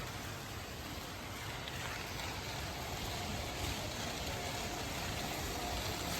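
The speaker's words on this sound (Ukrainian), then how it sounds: "ще є басейн з фонтаном" Water from a fountain splashes steadily into a pool at a Japanese onsen hot spring, a continuous soft rushing wash heard from a short distance with no voices.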